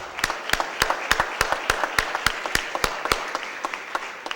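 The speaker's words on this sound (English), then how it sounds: "Let's give them a round of applause and thank them for being here today." Applause from a seated audience at a city Board of Aldermen meeting, honoring students and teachers: sharp, evenly spaced individual claps ring out close by, a small group clapping steadily with no voices over it.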